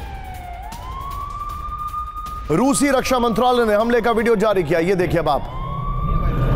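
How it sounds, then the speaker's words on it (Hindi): A wailing siren sound effect rises and holds steady, then breaks into a loud warbling yelp before returning to a steady tone. Someone talks over it throughout in a news report about a Russian attack. "मैं चाहूंगा इसके साथ सायरन ऑन रखिएगा"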